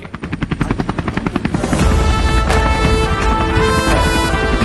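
A helicopter showering flowers over a gathering of farmers, its rotor first thumping in fast rhythmic pulses and then swelling into a loud, continuous close roar.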